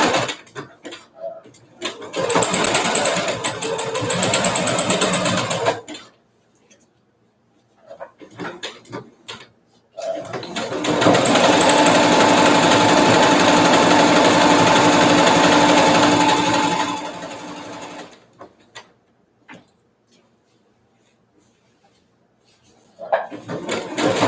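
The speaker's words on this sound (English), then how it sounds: "It feels so different sewing the blue denim compared to the black denim" Sewing machine stitching blue denim for high-waisted jeans, loud close motor runs of a few seconds each, the longest near the middle, separated by quiet pauses with small handling clicks.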